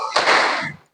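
Classroom children clap once together on the teacher's command, a single burst of many small hands smacking at almost the same moment, close and fairly loud, fading quickly to silence.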